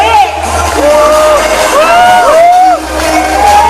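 Audience at a contestant showcase cheering, whooping and shouting as contestants come up, several rising whoops standing out above a steady loud crowd roar.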